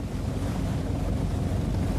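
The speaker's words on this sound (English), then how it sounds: "Wind has come after the rain, raising choppy waves on the lake." Wind gusting over choppy waves on an Irish lake after rain, a steady, full rush of water and buffeting air close to the microphone, with no pauses throughout.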